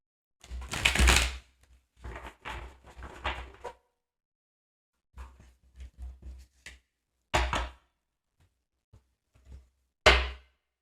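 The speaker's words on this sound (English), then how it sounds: "Gonna give the cards a nice little shuffle." A deck of cards is shuffled in several separate bursts of riffling and flicking, close and fairly loud, with short pauses between them and no talking.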